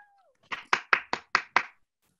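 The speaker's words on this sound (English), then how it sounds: "Let's have a final round of applause for all our students" Applause for graduating students at a commencement ceremony: six sharp, evenly spaced claps from a single pair of hands close by, then silence.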